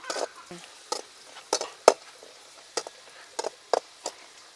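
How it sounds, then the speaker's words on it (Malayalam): Cashews and raisins frying in ghee for Thalassery thari biryani: a soft steady sizzle close by, broken by several sharp clacks of a spoon stirring against the pan, with no talk. "ഇനി നമുക്കിതിൽ കുറച്ച് അണ്ടിപ്പരിപ്പിട്ട് വറുത്തെടുക്കാം."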